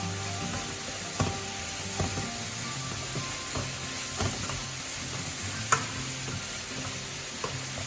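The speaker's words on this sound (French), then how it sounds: "vous n'hésitez pas à bien remuer pour mélanger les saveurs" Leeks stirred in a hot pan for a leek fondue, giving a constant dense sizzle broken by soft utensil taps and scrapes every second or so, close and unvoiced.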